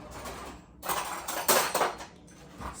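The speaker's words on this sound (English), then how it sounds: "we're gonna mix this all up into a paste" A utensil stirs and mashes garlic ingredients into a paste in a bowl, making soft scraping and clinking strokes nearby that swell and fade irregularly, with no talking.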